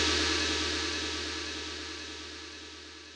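A large gong, a giant plate-like metal disc, rings after a single strike, a sustained shimmering wash that slowly decays over a few seconds with no voices.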